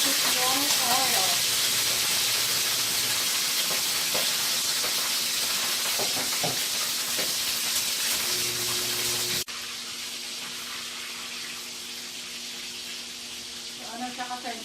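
Boneless bangus (milkfish) steak frying in cooking oil, a loud, steady hiss and crackle that drops abruptly partway through to a softer sizzle, with a person talking over it.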